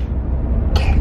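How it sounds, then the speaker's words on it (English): A single short cough near the end, close to the microphone, following a low rumbling background. "Close your mouth when you cough."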